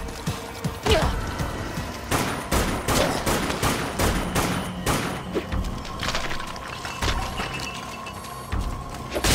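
Rifle fire in the zombie shooter game Dead Nation comes as loud, sharp, rapid shots in uneven bursts, with mechanical clicks and clatter between them.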